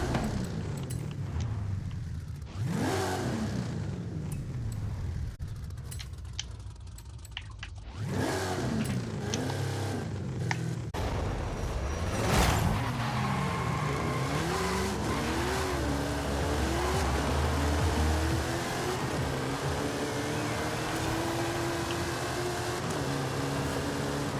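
Lincoln Continental race build in Forza Horizon 5, tuned to 1500 horsepower with rear-wheel drive: engine revs climbing and dropping through gear shifts, with bursts of tire squeal and skidding, loud and continuous.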